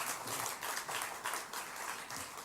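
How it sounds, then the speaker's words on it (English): Audience applause at a Rotary International meeting, quiet and distant clapping with a loose pulsing rhythm that stays fairly even across the short stretch. "give him a round of applause"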